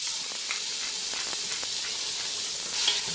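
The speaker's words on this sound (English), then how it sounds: "That's why I'm searing the meat properly here." Meat seared with bacon in a large pot for beer goulash, giving a steady close hissing sizzle with faint crackles and no talk.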